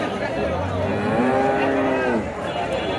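A cow moos loudly and close by at a busy Bogura village cattle market, one long drawn-out low call rising and falling, over a background murmur of the market.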